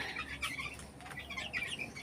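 Chickens and small chicks on a farm cluck and cheep in bright, overlapping bursts with a few wing flaps, close and moderately loud, with no one talking.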